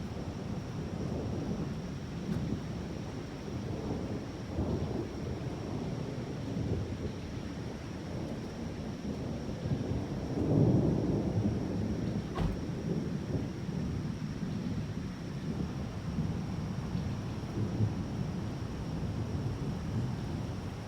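Thunder from a storm rolls in a long, continuous low rumble with a brief swell partway through, distant and unbroken, with no voices.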